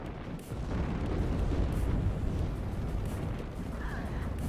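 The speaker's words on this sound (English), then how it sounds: "They are firing their flamethrower." Flamethrower fire and explosions rumble through a battle in the video game WARNO, a dense, loud barrage of booms and roaring bursts that stays constant throughout.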